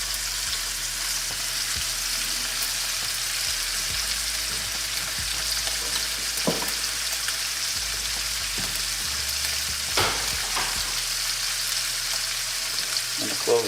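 New York steaks searing in a hot pan with butter give off a steady, loud, dense sizzle with occasional pops and spatter, while someone talks over the frying.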